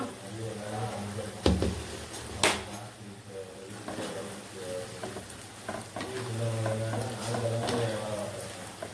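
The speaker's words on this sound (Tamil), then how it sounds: "இப்போ நல்லா பொறிச்சு எடுத்துக்கிறோம்" Thaen mittai sweets deep-fry in hot oil with a dense, bubbling sizzle that swells and eases, punctuated by a few sharp scrapes and knocks of a stirring spoon against the pan.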